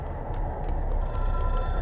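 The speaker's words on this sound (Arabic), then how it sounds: "هناك تلفون يرنج." A phone rings in the video game Control, a sustained electronic ring rising over heavy low rumble and ambient noise, getting louder in the second half, with no talking.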